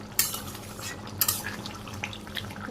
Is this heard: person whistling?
no